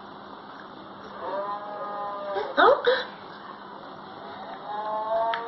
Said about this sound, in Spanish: ¡La vaca!